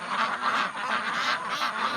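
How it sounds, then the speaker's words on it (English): Mature ducks quack steadily in a muddy rotational-grazing pasture paddock, a dense, continuous chorus of overlapping calls at moderate distance with no talk. "Pretty healthy, mature ducks right there."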